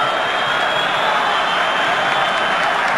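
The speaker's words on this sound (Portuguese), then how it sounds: "a torcida está vaiando" A football crowd at a Brasileirão match between Náutico and Figueirense boos, a constant, loud, broad roar of many voices with no breaks.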